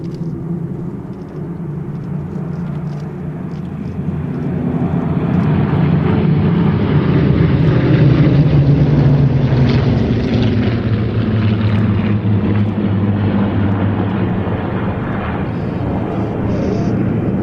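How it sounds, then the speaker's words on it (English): A formation of Spitfires, including George Hay's Suffolk Spitfire, roars past at an air show, the propeller engine drone swelling from a distance to a loud, sustained rumble before easing slightly. "Furthest away from us now, but in the middle on the right-hand side, is George Hay flying his Suffolk Spitfire"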